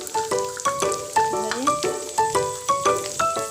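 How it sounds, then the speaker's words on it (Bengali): Lentils for vegetarian khichuri being fried and stirred in a pan with panch phoron, a spatula scraping in a quick steady rhythm over a soft sizzle. "বাকি সব ডালগুলো একটু ভেজে নেব।"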